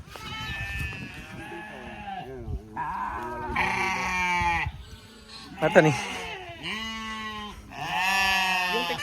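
Sheep on a goat farm bleating repeatedly and loudly up close, a series of wavering calls, with a person speaking briefly among them.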